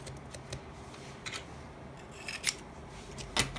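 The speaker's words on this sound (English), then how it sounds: "It's always so difficult for me to cut stuff with that X-Acto knife." A blade cuts through paper with short, crisp snipping strokes, several quick bursts spread across a few seconds with soft handling rustle between them.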